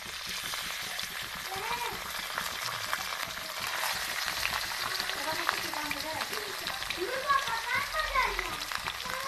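Vegetables sizzle in a pan with ginger and garlic, a steady frying crackle running underneath while someone talks and children's voices chatter nearby.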